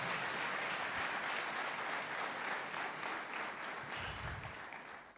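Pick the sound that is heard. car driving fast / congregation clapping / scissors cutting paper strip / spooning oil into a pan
congregation clapping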